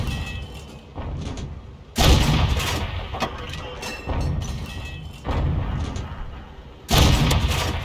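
Tank cannon blasts in a tank video game, several heavy booming shots at irregular intervals, loud and close with rumbling decay between them.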